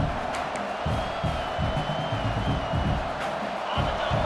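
Stadium crowd noise in the College Football 26 video game, a continuous roar of cheering spectators with a faint whistle-like tone, steady and distant under commentary.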